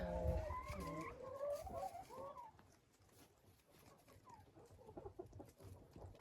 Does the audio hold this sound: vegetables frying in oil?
no